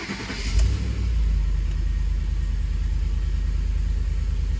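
A repaired Ford engine idles steadily up close, a deep continuous rumble with a brief rev swell near the start before settling into an even run, no voices.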